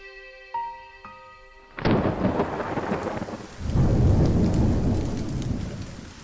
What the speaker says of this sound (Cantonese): 夏季暴風雨嚟臨，總係伴隨電閃雷鳴